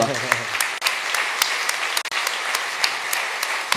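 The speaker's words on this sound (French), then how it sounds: "on peut applaudir pour" An audience applauds at a talk, with steady, full clapping throughout and a brief voice at the start.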